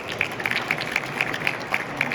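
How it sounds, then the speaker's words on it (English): An audience applauds a panel at the close of a discussion session, a brief, steady patter of hands with a few sharper claps standing out, moderately loud and without talk. "So a round of applause for our panel, please"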